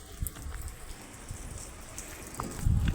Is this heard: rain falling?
yes